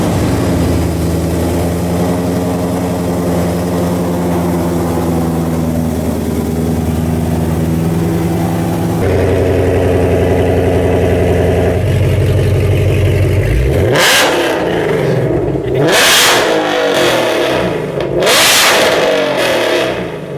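A 1100HP Shelby GT500 Mustang on its stock engine rumbles at a loud, close, throbbing idle, then erupts into several sharp, screaming revs, each rising and falling away, with no talk.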